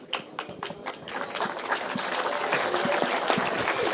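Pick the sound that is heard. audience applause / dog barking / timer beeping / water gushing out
audience applause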